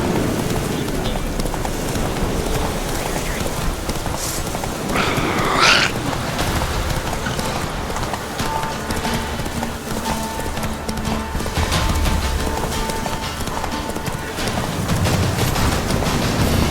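Roach, a horse, trots with steady clip-clop hooves at close range, the beats continuous throughout over a busy background, with a brief whinny-like burst partway through.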